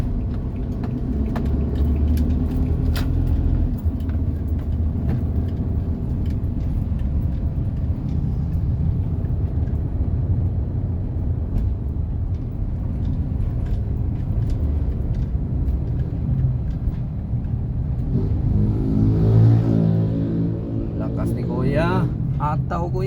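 A car cruises along a highway toward Ayala, giving a continuous low road rumble and engine drone with passing whooshes, while voices talk over it inside the cabin.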